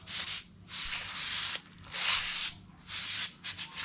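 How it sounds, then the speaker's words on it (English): Hand sanding with 220 grit sandpaper on a homemade fishing gaff, four long back-and-forth rubbing strokes with brief pauses between them, close and fairly soft with no talk. "we're going to get some 220 grit paper, and we're just going to just keep sanding it"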